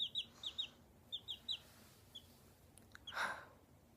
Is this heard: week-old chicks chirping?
yes